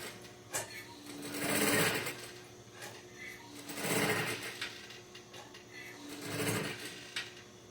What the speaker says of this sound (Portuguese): você usa nesse trabalho aqui a máquina com o seu ponto na maior distância possível